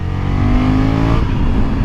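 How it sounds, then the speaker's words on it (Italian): A 2020 Honda Africa Twin 1100 Adventure Sports Euro 5 engine revs up loudly close by in sixth gear, its pitch climbing steadily under acceleration before easing off near the end. "adesso vi faccio sentire questo motore Euro 5 in sesta"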